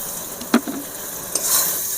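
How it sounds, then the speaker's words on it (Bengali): Garlic paste hits hot oil in a pan where onions have already been browned for a Bengali bata fish curry. A soft, continuous sizzle carries a couple of brief stirring clicks, with no voices. "এবারে আমি রসুন বাটা দিয়ে দেব"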